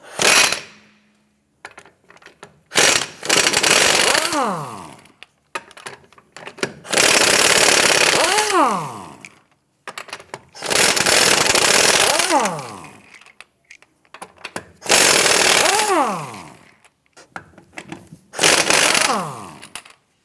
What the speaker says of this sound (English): Using a 21mm socket, let's get it loosened and remove the lug nuts